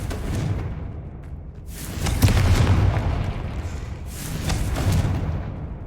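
A Confringo spell explodes in the video game Hogwarts Legacy, two deep booming bursts with rumbling tails a couple of seconds apart over a low ambient bed.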